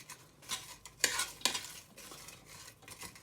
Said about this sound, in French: On mélange et on va mettre à feu doux jusqu'à ce que les oignons ramollissent